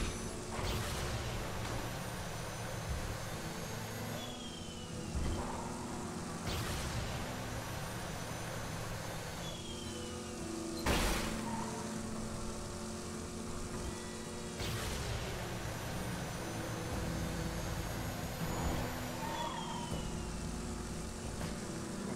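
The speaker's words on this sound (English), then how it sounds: "with the afterburner, we can go quite a bit faster than we could previously" Vehicle afterburner boost in the Borderlands 2 video game: a steady, loud engine roar with rushing whoosh and several sharp bursts and impacts, continuous throughout with no talking.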